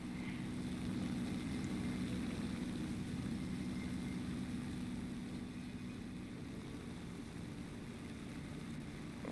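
A propeller-driven Reggiane Re.2005 fighter drones steadily in flight in a combat flight game, its engine a constant low, even hum with no talk over it.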